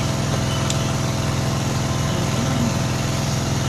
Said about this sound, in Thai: อาจจะได้ยินเสียงเครื่องสูบน้ำนะ